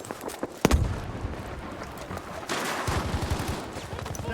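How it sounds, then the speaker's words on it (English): Gunfire during a competitive shooter match, a sharp close shot followed by rattling bursts of rapid fire with distant booms, mixed under a busy game soundscape. "Skid opening fire there, try and get a kill."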